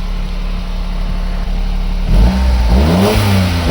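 A Honda Beat idles steadily, then about two seconds in its engine is blipped in a few quick, loud revs that rise and fall in pitch, close and unaccompanied by speech.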